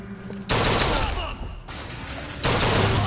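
Rapid carbine gunfire in Bioshock Infinite, two loud close bursts of fast repeating shots separated by a brief lull, with echoing impacts between them.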